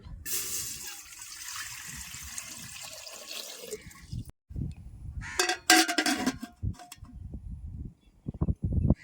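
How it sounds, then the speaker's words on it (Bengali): Water pours from a vessel into a cooking pot set on a village clay stove, a splashing gush in short bursts with quieter clatter and gaps between. "এবার উনানে হাড়িটা বসাই দেবো এটার মধ্যে এবার দিয়ে দেবো জল"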